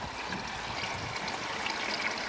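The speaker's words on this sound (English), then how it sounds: "the water flowing back to the pond nice and clean" Water from a koi pond filter pours back into the pond in a continuous, close trickling stream with a steady gurgle and no pauses.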